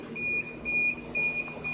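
A hoverboard powering on gives a series of high electronic beeps, four evenly spaced tones in a steady rhythm, close and clear over a quiet hum.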